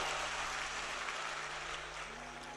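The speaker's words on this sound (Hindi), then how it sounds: "एक बार जोरदार ताली बजा" Applause from a large devotional gathering under a pandal at a religious katha event, a steady broadband wash of clapping that fills the whole stretch at moderate level and tapers slightly toward the end.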